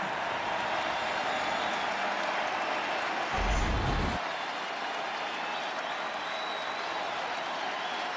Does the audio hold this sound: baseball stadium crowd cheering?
yes